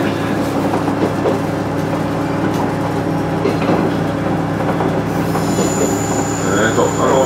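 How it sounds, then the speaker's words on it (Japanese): A JR Tadami Line train runs along the rails near the Aizu–Echigo border. Wheels squeal steadily and loudly against the track with a continuous rumble of the rail car throughout, and no talking is heard. "列車はこれから会津と越後の県境に向かって進んでいきます。"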